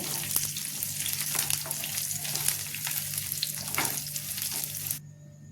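Crushed garlic fries in a hot pan with a loud, dense, steady sizzle and faint stirring scrapes, then the sound drops away abruptly near the end.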